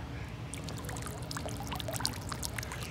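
Water runs from a hose pipe into a tank, a continuous close splashing and trickling pour with small bubbling spatters, steady throughout with no voices.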